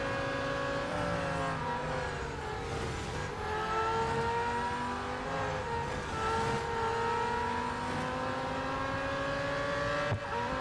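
A McLaren Solus GT engine in the racing game Real Racing 3 hums steadily and drops in pitch through successive downshifts, a clear continuous synthetic engine tone with no talk over it.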